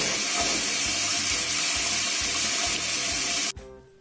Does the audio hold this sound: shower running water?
yes